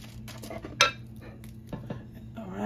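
Seasoned beef short ribs are mixed by hand in a bowl, with soft squelching handling and a few sharp clinks and knocks of the bowl, close and moderately quiet.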